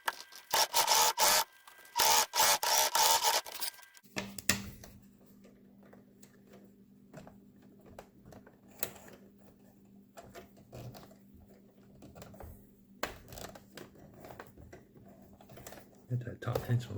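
A sewing machine stitches the bottom seam of a rope bag, a steady mechanical hum with light rhythmic ticking that runs for most of the stretch, preceded by a few seconds of louder handling clatter.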